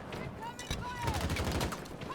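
Gunfire in the video game Battlefield 2042, a few quick bursts of shots fired over a busy, moderately loud battle soundscape.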